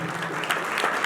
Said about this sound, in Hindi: जोरदार ताली देंगे